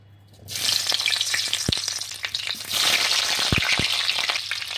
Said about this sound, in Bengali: শীতের সবজি দিয়ে খিচুড়ি তৈরির জন্যে কড়াতে বেশ খানিকটা তেল দিয়ে দিচ্ছি। ফুলকপিগুলো ভেজে নেব।